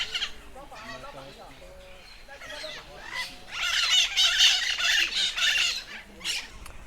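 A Quaker parrot at a large bird park in Brazil gives loud, raspy repeated squawks that swell into a harsh burst of calls, close by, with people talking and other birds around on a hot day.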